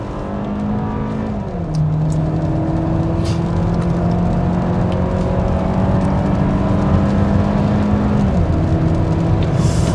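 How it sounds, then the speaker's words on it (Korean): A car accelerates hard on a straight test track, its engine drone climbing steadily in pitch across two long gear pulls with a shift early on, loud and close from inside the cabin. "직선로에서 가속을 시도합니다"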